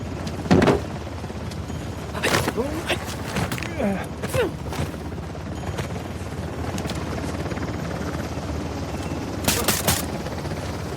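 Helicopter rotor thrum in the video game Uncharted: The Lost Legacy runs steadily underneath bursts of gunfire and sharp impacts, with voices calling out briefly over the action.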